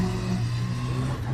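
Rally cars on a wet stage of the Jack Frost Rally, a steady loud engine drone with a low tonal hum running throughout, close by and without talk.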